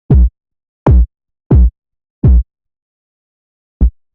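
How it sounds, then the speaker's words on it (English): Five short, punchy filtered dubstep kick drum hits with a muffled low-pass tone, sounding alone: four evenly spaced, then a pause before a final shorter hit. "Filtered out kick."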